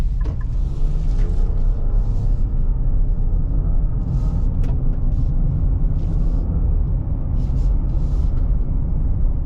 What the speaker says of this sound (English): all-terrain tires on here, so they're going to make a little bit more noise